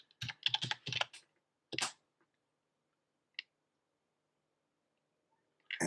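Rapid burst of close keystrokes as a password is typed on a computer keyboard while signing into a company account on Windows, followed by a louder isolated key press, a single faint click, and another key tap at the end, with no talking.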